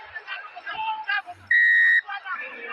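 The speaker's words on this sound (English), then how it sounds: "Very quick whistle there from Tal Chowdhury." A sharp referee's whistle blast of about half a second cuts through crowd noise and commentary at a rugby sevens match in Los Angeles, clear and loud against the chatter.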